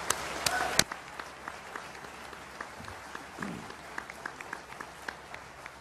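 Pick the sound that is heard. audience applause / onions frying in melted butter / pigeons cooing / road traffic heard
audience applause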